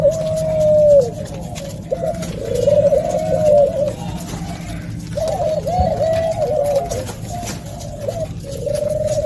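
Pigeons coo repeatedly at close range in an aviary, deep rolling calls arriving in bursts every couple of seconds over a low background rumble.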